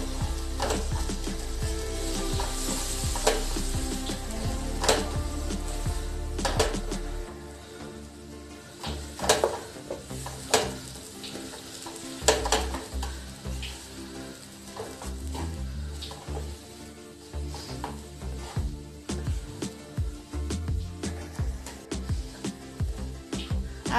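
Gram flour (besan) roasting in a pan for mohanthal makes a constant sizzle with repeated scraping and stirring strokes as milk is mixed in a little at a time, with the bubbling fading partway and the stirring continuing.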